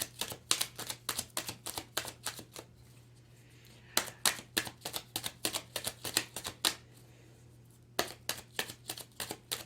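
Tarot cards are pulled and shuffled close up in a quiet room, making quick bursts of crisp riffling and flicking with short pauses between.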